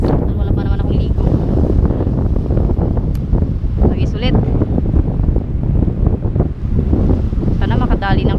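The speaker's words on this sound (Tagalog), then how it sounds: "Maraming alon. Alon tas mahangin." Strong, steady wind rushes over the microphone with a broad roar of sea waves beneath at a fishing spot, and a person speaks briefly in Filipino over it.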